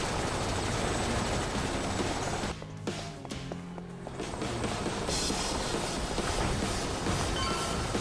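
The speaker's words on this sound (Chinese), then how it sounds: "靠，直升机还来！" Helicopter arriving during combat in the video game Like a Dragon 8, a steady droning rumble with a brief dip and sparse mechanical clanks mid-clip before the loud wash returns, with no talk.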